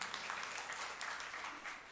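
Church congregation applauding during a sermon, a faint, distant wash of many hands clapping evenly for a couple of seconds.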